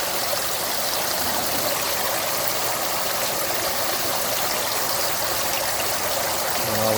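Water pours steadily into a chest freezer converted into a bait tank, a constant rushing hiss like a running hose or tap filling a large container, with no talk.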